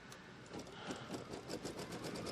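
An embroidery sewing machine tacks down a quilt seam, stitching left to right with a fast, even, pulsing chatter, close but fairly quiet and heard alone.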